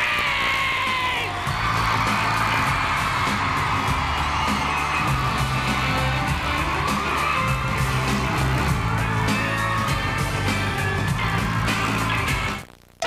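A large audience of children at the 1997 Nickelodeon Kids' Choice Awards screams, whoops and cheers continuously and loudly, a dense sustained roar with music underneath, cutting off abruptly at the end.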